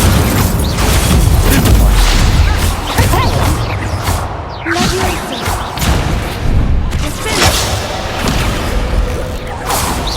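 An Incendio fire spell is cast during Hogwarts Legacy combat, amid a dense run of loud booms, crashing impacts and whooshes, with shouted voices mixed in.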